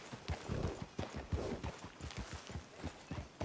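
In Red Dead Redemption 2, a horse walks through a frontier town. Hooves clip-clop in a steady, close rhythm with a low rumble in the background, and no one speaks.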